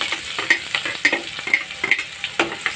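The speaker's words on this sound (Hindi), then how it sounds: "ये अब मैं इसमें डालूंगी ये कटा हुआ प्याज" Chopped onion dropped into hot oil fries with a steady sizzle, broken by sharp spatula clinks and scraping strokes at a regular rhythm, close and fairly loud.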